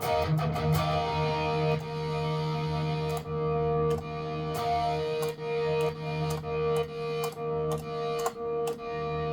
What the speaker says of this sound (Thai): เอาเสียงแตกเลยแล้วกัน